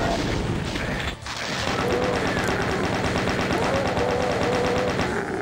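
Rapid plasma rifle fire in Final Doom, a fast, even stream of loud shots running steadily for several seconds after a short break early on, with game sounds mixed in.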